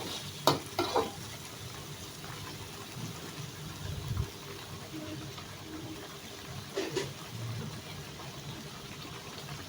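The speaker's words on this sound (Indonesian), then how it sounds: "Selanjutnya saya aduk rata." Tofu and quail egg stew stirred in a pan, with soft scraping and a few clacks of a utensil over a faint low sizzle, near and fairly quiet.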